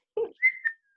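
A person whistles a short rising-and-falling tune during a tabletop role-playing game session, close and clear, just after a brief low vocal sound.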